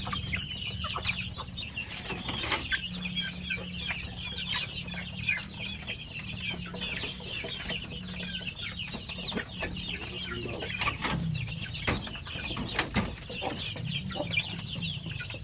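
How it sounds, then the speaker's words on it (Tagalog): Shamo native chicken chicks clucking and peeping steadily and close by, a busy flock's chatter running throughout with occasional louder calls from a pen of young fowl. "So yung dito na mga sisiw natin na Shamo, okay naman."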